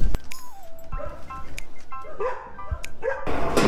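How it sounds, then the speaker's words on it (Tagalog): An energetic Belgian Malinois yips, barks and whimpers in quick, uneven bursts close by, with high whining tones between short sharp barks. "Ang sobrang energetic na aso na ito, isang Belgian Malinois."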